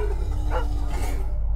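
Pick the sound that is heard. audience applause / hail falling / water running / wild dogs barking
wild dogs barking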